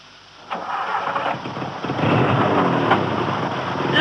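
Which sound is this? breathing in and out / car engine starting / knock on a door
car engine starting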